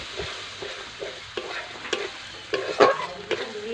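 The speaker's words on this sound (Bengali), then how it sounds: "দেখো মশলাটা আমার কষানো হয়ে গেছে। তো এরপর এর মধ্যে আমি দিয়ে দেব নারকেলের দুধটা।" Coconut milk added to a sizzling fried spice paste for a Bengali prawn malai curry and stirred, giving a soft sizzle with close, intermittent scraping stirs and a brief louder burst as liquid hits the hot pan.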